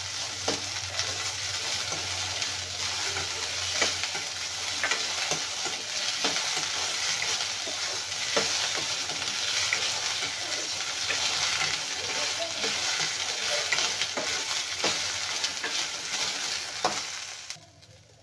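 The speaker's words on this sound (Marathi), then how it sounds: "तर हे बघा, छान असे मटार आपल्याला भाजून घ्यायचे आहेत" Fresh green peas roast in a hot pan with a dense, steady sizzle and frequent scraping stirs throughout, fading out abruptly at the end.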